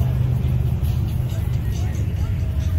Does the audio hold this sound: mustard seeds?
no